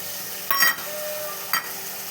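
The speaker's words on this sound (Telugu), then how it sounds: "ఇవి కొంచెం నూనెలో ఫ్రై కావాలి" Vegetable pieces frying in oil with garlic, giving a steady soft sizzle broken by two brief louder hisses, as if ingredients are stirred or added to the hot pan.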